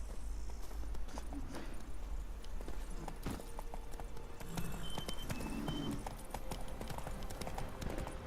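Horse hooves clip-clop at a steady gallop in The Witcher 3, a continuous near rhythmic pounding with faint game ambience underneath.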